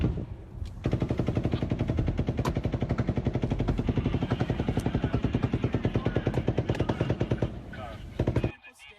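A long sustained burst of rapid automatic gunfire during the Route 91 Harvest concert attack, shots pounding in a fast steady rhythm for several seconds, echoing and somewhat distant, then cutting off abruptly.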